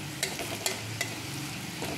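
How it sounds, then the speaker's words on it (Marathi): Frying onions with turmeric and chili powder sizzle softly in a pan while a spoon stirs them, giving a few quick scrapes against the metal over the steady hiss. "मिक्स करून घेऊया"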